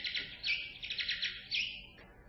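A played recording of bat chirp call syllables: a run of rapid, high-pitched rhythmic chirps in three bursts, fairly faint, ending abruptly with no speech over it.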